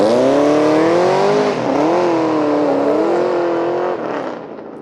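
A car engine revs hard nearby, its loud, rising and falling drone holding strong, dipping and surging again before tapering off, with no talk over it.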